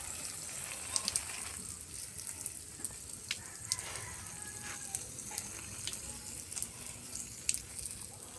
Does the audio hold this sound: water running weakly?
yes